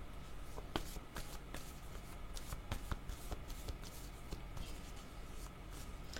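Oracle cards are shuffled softly nearby, giving faint, scattered ticks and sliding rustles over a steady low background hiss, with no speech.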